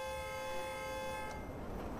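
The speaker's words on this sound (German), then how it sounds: "Warum hupt das Ding los?" A vehicle horn in the video game Watch Dogs blares as one steady, loud, unbroken tone for about a second and a half, then stops, leaving a rumbling background.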